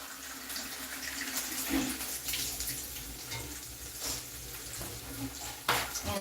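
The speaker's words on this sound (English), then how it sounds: "going to add water for the ugali." Water pouring from a tap into a cooking pot to make ugali in a home kitchen, a steady running splash with some clatter of the pot, heard alone without talk.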